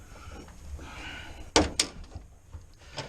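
Race car door opening: a couple of sharp close clunks and a latch rattle from the door in a quiet garage, with a few faint knocks after.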